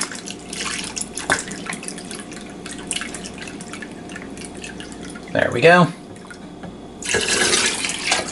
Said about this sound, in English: Let's see if this pours well enough for me.